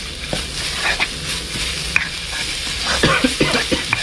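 Frog pieces stir-fried with curry paste, chili, garlic and lemongrass in a small amount of oil, giving a steady close sizzle with scraping spatula strokes and occasional sharper clicks against the pan.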